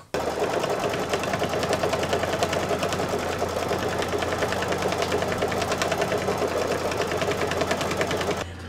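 An embroidery machine stitches crosshatching on an in-the-hoop home decor bunting or banner, a fast, even, continuous mechanical chatter running close and steady throughout.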